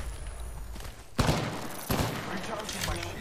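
R-99 submachine gun firing in Apex Legends, rapid bursts of gunfire in a fusillade with a sharp onset and a second burst shortly after, loud against game ambience.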